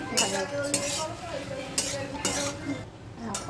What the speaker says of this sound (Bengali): এখন ভাজছি মাখানা